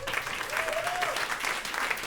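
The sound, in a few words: applause from audience for panelists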